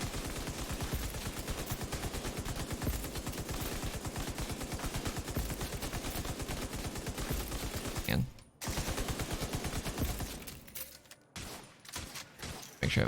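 A minigun in Division 2 fires long sustained bursts of rapid gunfire. The roar cuts out in brief gaps near the end before resuming.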